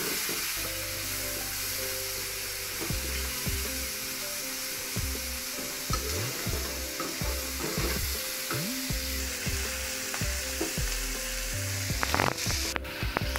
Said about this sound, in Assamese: এইখিনি 5 মিনিট ভাজি ল'ব লাগিব